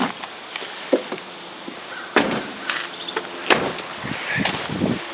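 A door being shut, giving a couple of sharp loud knocks with rattles between them, close by and not masked by any talking.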